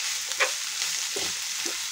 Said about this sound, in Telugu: అన్నీ వేసి మిక్స్ చేస్తున్నాను.